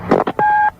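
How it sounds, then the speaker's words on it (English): Telephone ringing in a home as a call comes in: two short bursts followed by a longer steady electronic tone, close and fairly loud, with no talk over it. "That's when the phone rings."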